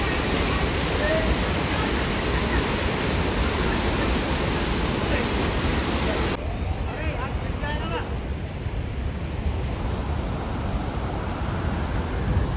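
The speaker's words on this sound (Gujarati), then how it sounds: "આ છે ગિરિમાળાનો ધોધ સામે છે પર્વત જેવું અને આ છે ધોધ" A hill waterfall in the monsoon roars as a loud, steady rush of water that fills the whole clip without a break. Part of it is slightly muffled, and someone speaks over the sound.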